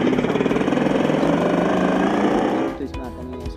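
A Revolt RV400 electric bike plays a simulated motor sound, a rapid buzzing throb that holds steady for about two and a half seconds, then cuts off into quieter clatter.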